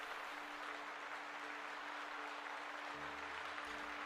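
Low, soft applause from a small audience runs through the whole four seconds, faint and even, with a faint steady hum beneath it and no talking.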